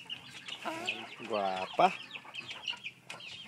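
A mother hen clucking close by with a drawn-out, wavering cackle midway, over a busy farmyard background while a person briefly speaks.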